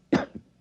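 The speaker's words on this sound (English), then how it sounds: "I'll cough twice, like this." Two quick coughs, a sharp loud one followed by a softer one, close up with nothing else around.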